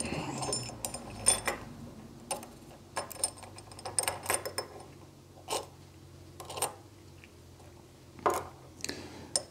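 Small metal parts of a Rosengrens safe lock being stacked during reassembly, a sparse run of quiet clicks, ticks and light metallic knocks spread irregularly across the quiet.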